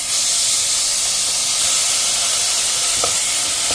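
Two medium crushed onions sizzle in a dry pan without oil, giving a loud, continuous close hiss that stays steady throughout with a faint stir near the end.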